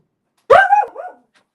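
A single sharp, loud dog bark close by, with a brief whining tail as it fades out.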